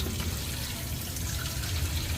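Water pouring steadily into a pot to be brought to a boil for pansit, a broad continuous rush with no talk.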